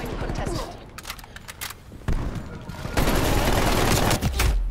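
Rapid automatic gunfire from a sentry gun in a Call of Duty Hardpoint match, sustained bursts with louder, denser firing toward the end, heard under voices.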